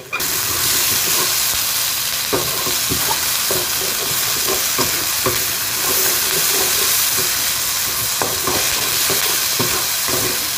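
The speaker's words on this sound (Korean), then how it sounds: "불을 엄청 약하게 하시고요. 양파를 향을 내줄 거예요." Sliced onions sizzling in a pot over very low heat for pumpkin soup, a steady close frying hiss with repeated scraping and stirring knocks throughout.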